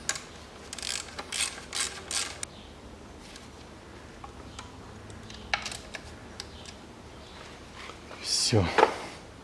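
Bursts of rapid ratchet clicking from a hand ratchet tightening a bolt on a 2008 Audi Q7 3.0 diesel engine during a swirl-flap repair, heard in several short close runs, with a louder clank near the end.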